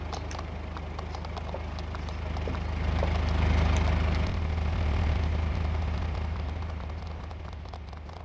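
Horse ridden in Farming Simulator 19, hooves clip-clopping in a quick steady galloping rhythm under a low engine-like hum that swells midway, continuous and close.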